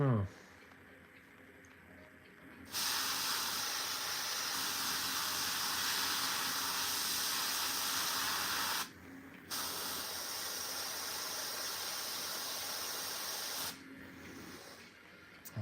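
An airbrush sprays paint onto a Warhammer miniature, giving a close, steady hiss in two long bursts separated by a short pause, with a brief final burst near the end.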